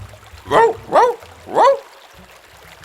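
Three loud dog barks in quick succession, close by, followed by quiet with faint water trickling in the background.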